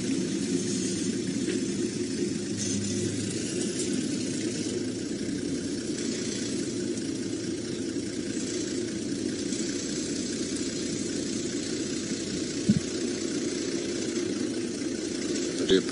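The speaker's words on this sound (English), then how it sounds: "I do apologize about the vehicle noise" Safari vehicle engine idling steadily at a moderate level throughout, a low continuous rumble with faint wind and outdoor ambience and an occasional soft knock.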